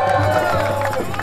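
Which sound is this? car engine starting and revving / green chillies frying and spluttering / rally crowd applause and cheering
rally crowd applause and cheering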